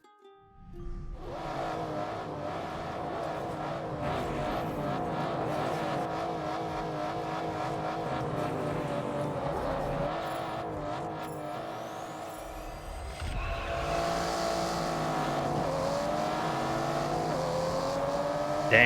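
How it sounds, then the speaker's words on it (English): A rear-wheel drive car in the racing game TDU Solar Crown gives a steady engine drone, rising and shifting in pitch as it revs and accelerates, loud and continuous with no talk. "now we're switching to a rear-wheel drive car. But it's going to sound really good."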